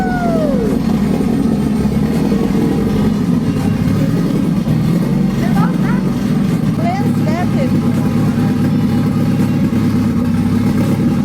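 Toyota Supra with a forged 2JZ engine running loud and close, a constant heavy mechanical rumble with brief revs, while people talk underneath.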